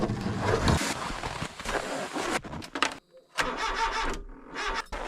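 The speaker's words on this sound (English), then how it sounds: "Car doesn't want to start, and it sounds like it's the battery." A car engine cranks repeatedly but fails to start in freezing 0°F cold during a snowstorm, a battery problem suspected; several strained cranking bursts are broken by short pauses, loud and close.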